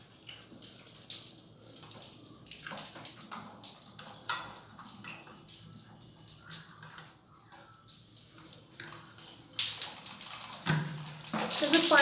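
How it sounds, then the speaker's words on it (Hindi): Water running and splashing out of an electric geyser water heater during cleaning, a steady gushing flow with drips, close by, with people talking at times. "पानी है, पानी बंद करो ना पहले"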